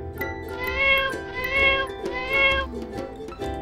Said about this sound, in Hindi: कैट मीन्स बिल्ली।